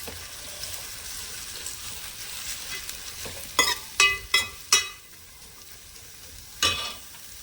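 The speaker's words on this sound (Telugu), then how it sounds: "నెక్స్ట్ వచ్చేసి ఉల్లిపాయలు వేసేస్తానండి. ఇది చక్కగా మనం ఎర్రగా వేగించుకుందామండి." Onions frying in a pan for a home-cooked chicken curry: a steady sizzle runs throughout, with four sharp, loud scrapes or clanks of the spatula close together midway and another a little later.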